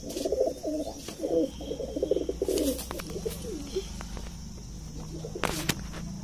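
Close, low cooing from a red-eyed Indian high-flying pigeon comes in a run of rolling phrases for about three seconds, then fades to fainter murmurs and a few light knocks.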